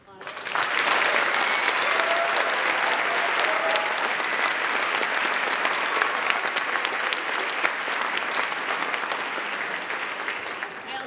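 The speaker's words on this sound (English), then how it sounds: "Can I give them another round of applause?" An audience at an arts festival applauds a student chorus and band with loud, dense clapping that rises quickly and stays full for about ten seconds, a few voices and cheers mixed in.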